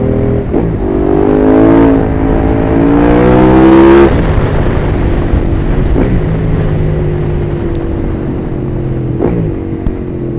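A motorcycle engine drones steadily up close while riding on a road, pitch rising and falling as it revs and shifts, with constant road and wind rumble.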